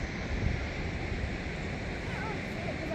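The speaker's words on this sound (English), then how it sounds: "there's a waterfall over here" Steady broadband rush of the Great Falls waterfall on the Potomac River, heard outdoors as a continuous roar without pauses.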